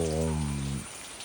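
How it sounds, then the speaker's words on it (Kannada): Steady, hissing heavy monsoon rain pours down near Savehaklu Dam, with a brief droning hum at the start that cuts off, leaving only the rain. "ಈಗಲೂ ತುಂಬಾ ಮಳೆ ಬರ್ತಿದೆ"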